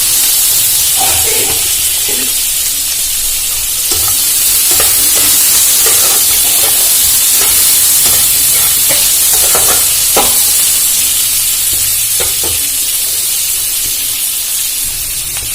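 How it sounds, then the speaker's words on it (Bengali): Chopped onions frying in hot oil and stirred, a loud constant close sizzle with repeated scraping stirring strokes through it, no voices. "পেঁয়াজটা দিয়ে ভালো করে ভেজে ভেজে নেব"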